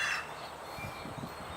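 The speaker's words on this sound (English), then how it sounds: "Birds squawking everywhere." Birds squawk outdoors in Channelview, Texas, a few low croaking calls near the end over a steady hiss of ambient noise.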